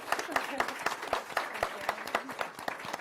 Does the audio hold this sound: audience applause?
yes